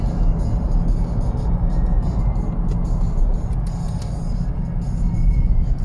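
Light traffic on a UK highway: a continuous low rumble of passing cars with a steady broadband road roar, fairly even loudness throughout and no talking.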